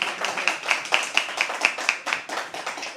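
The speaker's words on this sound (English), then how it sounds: "One of you clap, it doesn't matter." A single person claps in a steady rhythm at a poetry open mic, about a dozen sharp claps close by in a quiet room.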